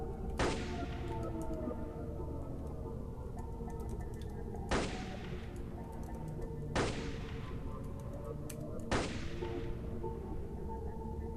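Sidearm fire in the video game AliensRL, four sharp, evenly spaced shots with a booming tail, each about two seconds apart, over a steady loud game background hum.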